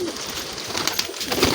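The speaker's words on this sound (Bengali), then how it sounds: "একটা চটিয়াল পায়রা, দেখুন সাদা চটিয়াল পায়রা" A white pigeon coos nearby among other birds, low rolling calls repeating over a constant hiss of background noise, with a few louder bursts toward the end.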